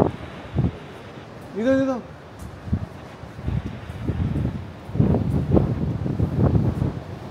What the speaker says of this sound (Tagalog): Lakas ng hangin, lumakas ang hangin oh.